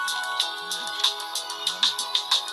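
A phone rings with a bright electronic tone in a repeating pattern of short beeping pulses, loud and close, with a faint swooping tone underneath.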